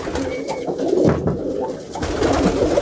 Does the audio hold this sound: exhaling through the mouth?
no